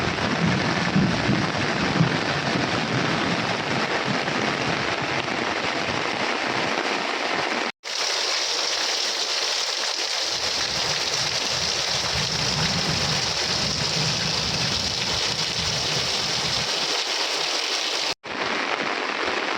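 Heavy monsoon rain pours over villages near Savarkundla in Gujarat, a dense, unbroken roar of downpour that stays loud throughout, broken only by two brief cuts.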